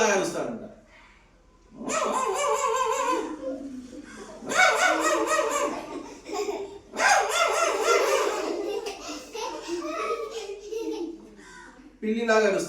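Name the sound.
child imitating a dog barking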